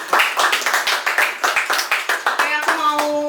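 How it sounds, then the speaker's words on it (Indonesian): Rhythmic group clapping from an audience at an artist talk celebrating a decade of an Indonesian arts collective, played before the Q&A; sharp, evenly spaced claps in unison, close and loud, ending with a brief tonal sound. "Kita tepuk tangan dulu sebelum kita buka tanya jawab."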